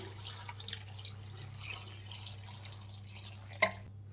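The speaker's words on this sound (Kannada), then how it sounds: "ಒಂದು ಅರ್ಧ ಲೀಟ್ರಷ್ಟು ನೀರು ಹಾಕ್ಕೊತಾ ಇದ್ದೀನಿ" About half a litre of water poured into a pressure cooker holding garlic for spinach sambar, a steady liquid splash over a low background hum, ending with a brief clink.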